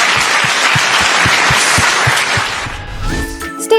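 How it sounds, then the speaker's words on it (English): Lively applause from a campus audience after an address, dense clapping with a few sharp claps standing out, fading near the end as a brief electronic jingle comes in. "But can we give him a round of applause?"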